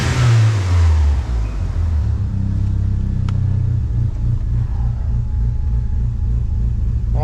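A 1997 Mitsubishi Eclipse GS-T engine revs hard on the throttle, rising then settling into a steady loud idle-like rumble, close up with no talking.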